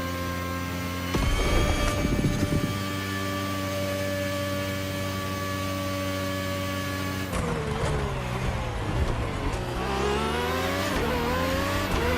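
A race car in The Crew Motorfest drives flat out with a steady high engine whine, then brakes and downshifts, its pitch sliding and wavering, with tire scrub and shifting engine tones toward the end.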